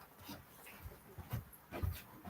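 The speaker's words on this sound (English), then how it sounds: "Here's the dog." A dog pants and snuffles nearby indoors, a few soft breathy huffs in uneven rhythm, quiet with no talk.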